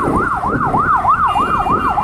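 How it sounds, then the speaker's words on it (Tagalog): An ambulance siren wails in a steady rising-and-falling sweep, loud and close on a street amid traffic noise, repeating several cycles without pause. "Maingay yung siren ng ano, ambulansya."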